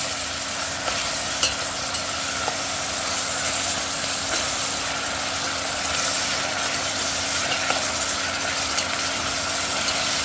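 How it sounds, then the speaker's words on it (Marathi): Food fries in a pan while being stirred with a spoon, giving a steady, even sizzle with small scattered scrapes and no talk. "तर आता फ्राईंग प्रोसेस सुरू आहे."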